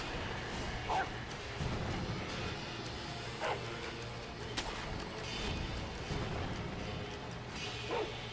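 Dogs in the video game Sekiro: Shadows Die Twice give several short, scattered barks and yips at a middle distance over a steady, busy background of game ambience.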